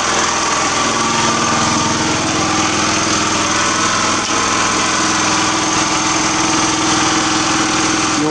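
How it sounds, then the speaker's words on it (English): Engine driving a homemade torrefaction system, a loud, steady, close drone with a constant buzzing hum and no pauses. "I think I'll shut the engine off soon"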